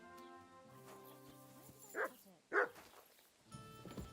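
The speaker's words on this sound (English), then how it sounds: "I got my dog, of course." A dog in Kingdom Come Deliverance 2 gives two sharp barks in quick succession, followed by soft whimpering yips, heard fairly close over quiet game ambience and music.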